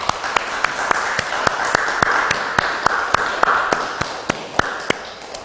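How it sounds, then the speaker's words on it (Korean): A church congregation claps during a Sunday worship service, with sharp claps landing at a steady rhythm over a broad, hissing wash of crowd sound at a constant level. "하나님께 감사의 박수 드리겠습니다."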